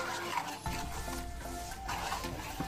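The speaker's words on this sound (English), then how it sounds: "While you put it in and give it a nice stir." A coconut filling with added salt is stirred in a pan, giving a continuous scraping, shuffling stir with a faint sizzle underneath, close and steady with no voices.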